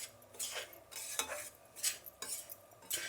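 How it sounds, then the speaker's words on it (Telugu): Grated coconut being fried in a pan, with repeated scraping strokes of a spoon against the metal in an irregular rhythm over a faint sizzle, close and fairly quiet. "ఇప్పుడు కొబ్బరి వేసుకుందాము. కొబ్బరి వేసినాక ఒక 2 నిమిషాలు వేయించుకోవాలండి."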